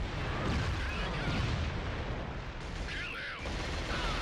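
Explosions and gunfire in the PS2 shooter Killzone, heard as a dense, continuous barrage of rumbling booms and bursts that stays loud for the whole stretch with no clear gaps.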